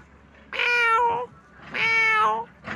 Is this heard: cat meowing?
yes